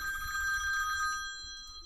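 A phone rings during a live stream, one steady electronic bell tone held for more than a second before fading, with no voices.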